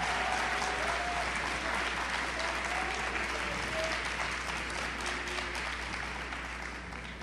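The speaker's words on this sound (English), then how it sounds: "let's give him a round of applause" Audience applause for a speaker at the South Oak Cliff celebration, a dense sustained clapping from a large crowd, steady throughout and tapering slightly at the end, with faint voices underneath.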